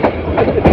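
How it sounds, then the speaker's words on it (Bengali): Bolaka Commuter train rolling into Joydebpur rail junction, a steady close rumble of railcars with rhythmic wheel-over-joint clatter swelling in a few pulses. "ট্রেনটি অবশেষে জয়দেবপুর রেল জংশনে এসে প্রবেশ করেছে।"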